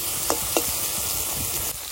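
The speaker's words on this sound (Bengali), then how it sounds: "এই চিংড়ি মাছগুলো একটু লাল লাল করে ভেজে নেবো" Shrimp frying in oil in a pan, a steady close sizzle throughout with a couple of brief stirring scrapes.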